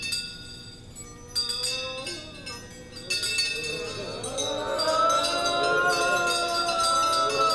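A swinging bell rings in a dramatic ghost-story scene, struck several times with bright clanging tones that ring on and layer into a rising, shimmering wash, heard alone without speech.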